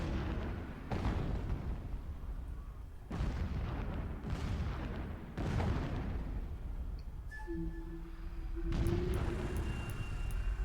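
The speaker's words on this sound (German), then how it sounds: "Explosions in the distance." Distant explosions in the video game Horizon Zero Dawn: five deep, muffled booms rumble at uneven intervals, each fading slowly, with a faint tone and chirps in between.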